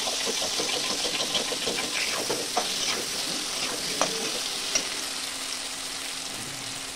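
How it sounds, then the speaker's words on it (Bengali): Small cut potatoes and tomatoes fry in a pan, a steady hissing sizzle close by with a few soft scrapes and taps of a stirring spoon, no voices. "আলু টমেটো এগুলো ভেজে নিলাম।"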